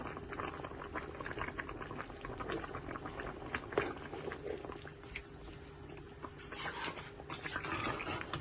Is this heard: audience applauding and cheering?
no